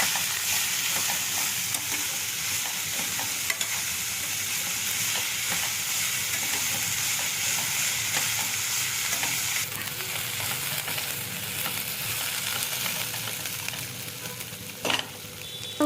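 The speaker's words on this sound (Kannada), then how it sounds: "ಈಗ ಆನಿಯನ್ನ ಸ್ವಲ್ಪ ಫ್ರೈ ಆಗಬೇಕು" Onions sizzle steadily in a hot pan for a light golden colour, a dense continuous frying hiss with faint stirring scrapes and one brief clatter near the end, close and without talk.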